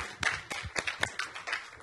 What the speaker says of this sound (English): Let's give Luis a big round of applause.